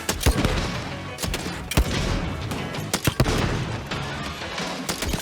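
Grenade launcher blasts from the Shadow Warrior 3 video game: a rapid series of sharp explosive booms and bangs, several close together, over a dense rumbling game soundtrack with no speech.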